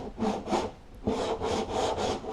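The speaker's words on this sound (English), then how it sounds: "just keep sanding at a 45-degree angle, just like this, just like that" A sanding block scrapes back and forth over body filler at a 45-degree angle, five or six rhythmic rasping strokes in quick succession, close and alone.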